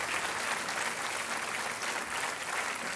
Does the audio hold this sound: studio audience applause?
yes